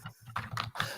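Quick typing on a computer keyboard: a short burst of several close, crisp key clicks in an uneven rhythm, heard alone without talking.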